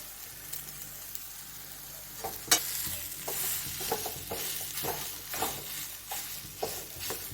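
Boiled potatoes being mashed and mixed into a soybean cutlet mixture in a pan, with repeated close scraping and stirring strokes in an uneven rhythm over a faint sizzle.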